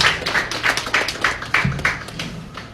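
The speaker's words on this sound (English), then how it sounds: "Give him a round of applause." Clapping from an audience welcoming a guest at an official website launch event, a steady run of close, crisp hand claps with no talk over it.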